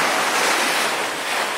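Ocean swell surges into a sea grotto in Okinawa with a broad, steady rushing wash, loud and close, with a slight rise and fall and no voices.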